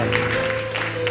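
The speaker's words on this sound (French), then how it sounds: "On applaudit le roi des rois" Church congregation applauding during a worship service, a brief patter of clapping over a sustained musical drone and a murmur of voices.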